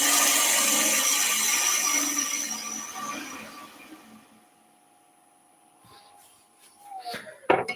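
A woodturning texturing tool presses into a spinning wood piece on a lathe, a loud rough scraping whir that fades as the cut eases off, followed by a few faint knocks and clatters.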